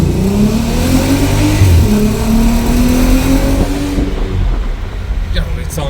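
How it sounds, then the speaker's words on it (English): A VW Caravelle T5 van with an R36 engine, set to sport mode, revs hard with a loud, steadily climbing engine note and a gearbox shift heard near the end, close to the microphone. "I'm gonna let it go max so we can hear the gearbox shift noise"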